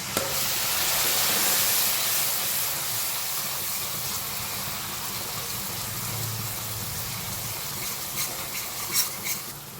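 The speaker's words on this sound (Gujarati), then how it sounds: "સહેજ વઘાર બળી ના જાય એટલે છાંટો પાણી આપણે એડ કરીએ" A splash of water hits hot spice tempering in a pan over a lowered gas flame. It brings a loud, broad sizzling hiss that slowly tapers, with a few faint clinks near the end.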